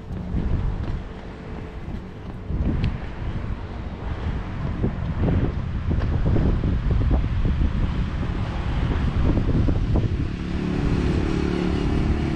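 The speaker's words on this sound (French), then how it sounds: "Il y a du vent pour rafraîchir un peu le soleil." Steady wind buffets the microphone during a seaside run from Arrecife toward Los Marmoles, a continuous low roar with gusting rumble throughout, loud and close, with no talking.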